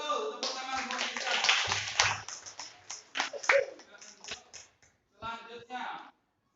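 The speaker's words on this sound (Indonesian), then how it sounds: "tepuk tangan buat kita" Students in a classroom clapping after a correct answer, uneven bursts of hand claps and taps at close range, with voices mixed in, fading out before a short final patter.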